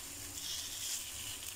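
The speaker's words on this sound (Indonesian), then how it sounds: "Kita goreng sampai matang dulu ya teman-teman ya." Shrimp and egg fry in a pan with a steady, soft sizzle, faint and even throughout with no talking.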